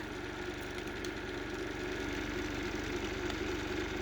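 A 3D printed rotor spins at high RPM, giving a quiet, steady, fast-pulsing mechanical hum with a low rhythmic buzz throughout.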